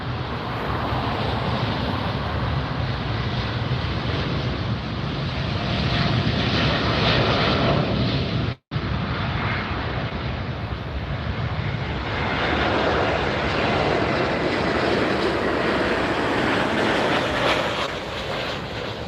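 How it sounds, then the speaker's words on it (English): A KLM airliner jet departing LAX, a loud, continuous close-range engine roar that holds steady for the whole stretch apart from one momentary dropout, with no voices. "I'm going to stick with this KLM departure."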